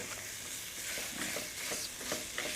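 Crumbled meat browns in a hot pan with a steady, bright sizzle. Soft scraping stirs run through it at close range and no one talks.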